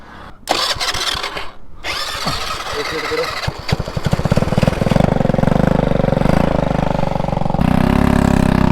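Small homemade motorbike built from two scrap bikes, its little engine cranking and catching, then running loud and close with a rough buzzing idle that revs up toward the end.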